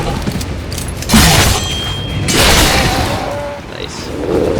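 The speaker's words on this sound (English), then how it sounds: "Just the sound the gun makes." A gun fires in Shadow Warrior 2, a few loud booming blasts, the first around one second and another near two and a half seconds, over a busy layer of game noise.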